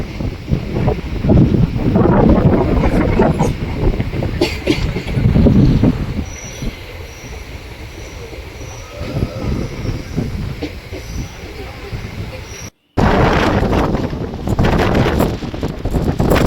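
Guruvayur Express passenger train running past Virudhunagar through dry country, with loud continuous rumble of wheels on rails and rushing wind against the microphone, a brief dropout near the end, then the steady clatter resumes.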